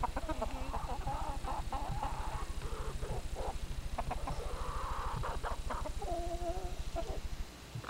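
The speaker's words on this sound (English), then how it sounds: "the rooster you hypnotized?" Chickens on a farm cluck and rooster calls rise through the stretch, the birds close and fairly loud over a steady low mechanical hum, with no talk.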